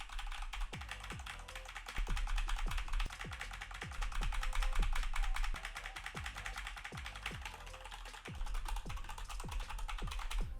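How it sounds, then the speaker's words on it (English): Typing on a computer keyboard, close and clear, a steady run of quick key clicks with brief pauses and a few heavier strokes, with no talking. "I'm going to type on the keyboard here."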